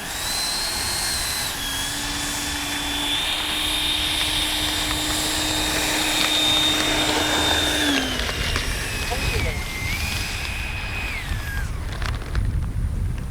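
An H-King Flycat V2 RC jet plane flies past with a high, whining turbine-like tone that rises and falls in pitch as it passes, loud and continuous over rushing wind.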